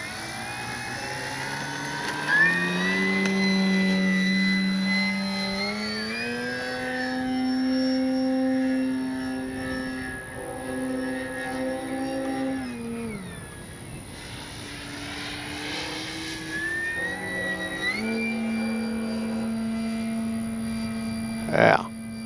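A Flex RV-8 60E G2 electric RC plane flying, its motor whine gliding up and down in pitch as it passes and turns, with people talking over it.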